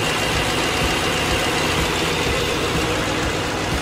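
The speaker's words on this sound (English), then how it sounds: "This is the hand-built engine." Hand-built 4-liter biturbo V8 of a 2019 Mercedes-AMG G63 Edition 1 idling, a steady, dense, loud engine rumble with a faint knocking texture that holds evenly throughout.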